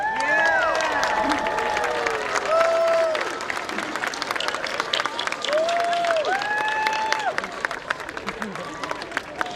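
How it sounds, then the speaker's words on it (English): Sustained crowd applause at a college commencement ceremony fills the clip, mixed with cheering and bird-like whistles, while someone speaks over it. "give them a round of applause"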